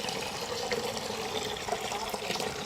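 Boiled milk cooked with sugar and cardamom poured into tender coconut in a village kitchen, a continuous close gurgling liquid stream with no break or talk.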